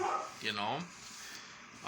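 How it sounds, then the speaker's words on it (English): A dog gives a couple of short yipping barks nearby, then a brief whine, fairly quiet and over within two seconds. "my dogs are barking"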